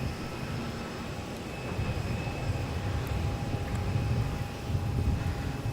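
A Jetstar airliner comes in to land at Melbourne Airport, heard as a distant, steady jet engine roar that swells slightly toward the end, with no talking.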